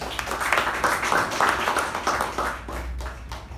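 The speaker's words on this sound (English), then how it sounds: "Let's give a huge applause for Toastmaster Anusha." Applause from an audience at a Toastmasters meeting, a dense wash of clapping that holds steady and then tapers off toward the end.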